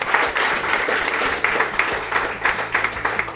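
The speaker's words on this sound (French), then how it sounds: "Puis à tout le monde, on va applaudir." Audience applause at the close of the 100th episode of a live-recorded French-language podcast: a dense, steady burst of many hands clapping, fairly loud and close, continuing throughout without a break.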